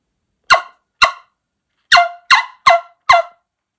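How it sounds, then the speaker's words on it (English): Plastic wingbone-style turkey call played alone: six loud, sharp, raspy yelps in two uneven groups, the last four quicker and closer together, with silence between. "I had a fella gift me a plastic version of a wingbone call, and it's kind of neat."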